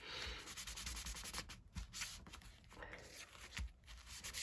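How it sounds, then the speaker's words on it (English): Tissue rubbed back and forth across junk journal paper, giving a soft, close, steady scratchy swishing with brief pauses, quiet and alone. "get tissue, rub it a little bit"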